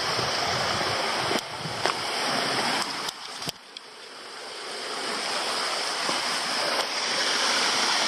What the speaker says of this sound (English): And if we go down here, some nice little waterfalls to cool off in.